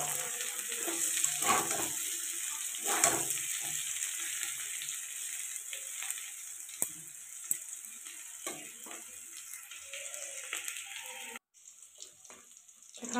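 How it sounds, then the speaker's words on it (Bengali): Onion stalks and potato frying in a pan, a soft continuous sizzle near the microphone with scattered clinks and stirring, fading at the end with a brief dropout. "দেখো এখানে আমার পেঁয়াজ কলি আলু ভাজাটা হচ্ছে"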